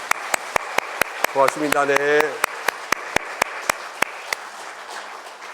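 A short burst of clapping comes from a church congregation during a worship service, with someone speaking briefly over it and sharp claps continuing as it fades.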